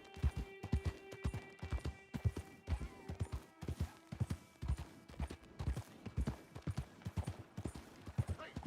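Horse hooves clip-clopping in Red Dead Redemption 2 at Geddes Ranch, a steady, fairly close rhythm of sharp hoof strikes that runs throughout at a moderate pace, with a low background hum.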